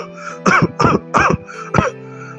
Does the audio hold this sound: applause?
no